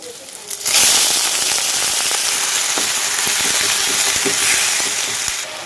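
Half a kilo of washed chicken hits a hot pan of fried onions, bursting into a loud, steady sizzle and crackle that continues with faint spitting pops.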